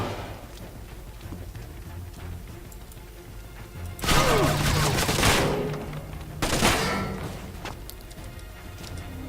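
Loud bursts of gunfire and crashing in the stealth shooter game Splinter Cell: Conviction, two heavy volleys rising out of quieter ambient game sound, with little talk.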